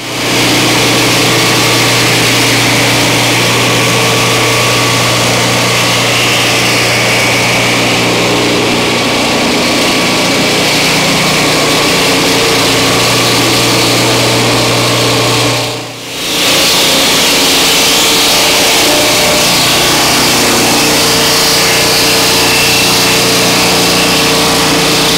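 A Turbosawmill engine runs at a loud, steady pitch while its blade skims slowly through a log, the sound unbroken apart from one brief dip in the middle.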